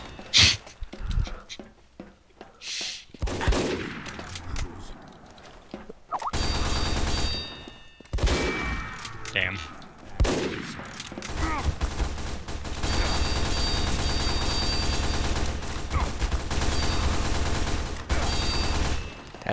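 Rapid automatic SMG fire from Team Fortress 2 in an MGE duel, loud sustained bursts broken by short pauses and sharp game effects, with a few brief panting or voice-like sounds.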